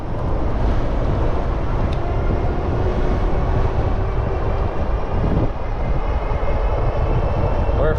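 A Bafang 1000W front hub motor running on a 51-volt battery gives a loud, steady drone with a faint high whine, continuous and close.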